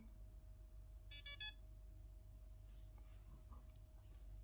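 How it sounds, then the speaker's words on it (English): A short burst of high electronic beeps from a Bluetooth receiver confirming connection when the battery is plugged in, a few quick tones in a row, against a quiet low hum. "when you plug in the battery, or you get a confirming beep"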